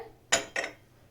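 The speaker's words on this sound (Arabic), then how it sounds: "وهضيف كده يا حبايبي كوبايه الرز البسمتي" A cup of basmati rice is poured into an empty bowl, making two short, close rattling bursts in quick succession with nothing else audible.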